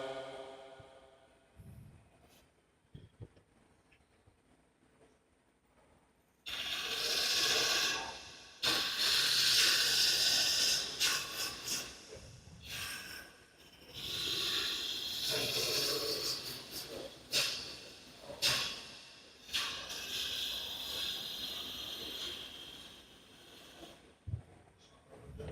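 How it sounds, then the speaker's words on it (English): A 1/2-inch bowl gouge cuts wood on a lathe while a snowman is turned, giving a steady hissing scrape in long close bursts that follow a quiet start with scattered small knocks. "It's a 1/2-inch bowl gouge."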